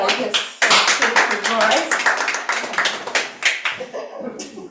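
Applause for speech contest winners, a crowd clapping briskly and continuously with dense overlapping claps that thin out toward the end, while voices talk over it.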